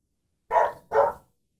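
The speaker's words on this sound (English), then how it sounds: "I think he's just outside barking at people." A large corgi barks twice outside, two sharp, loud woofs in quick succession with silence around them.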